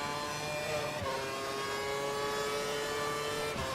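An F1 car engine screaming under acceleration in F1 2012 on the Valencia circuit, a steady high-pitched whine rising through the revs with a brief gear-change dip, loud and continuous, no voices.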